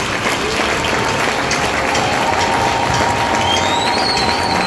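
A church congregation at a recollection closing applauds and acclaims Jesus, loud sustained clapping and crowd noise filling the space, with faint cheering or whistling rising near the end.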